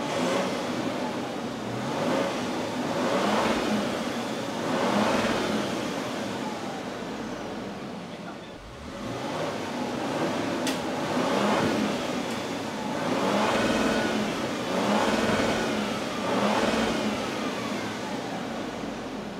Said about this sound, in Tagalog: Parinig ko sa inyo lastly kung ano ang kanyang exhaust sound coming from the twin turbo hybrid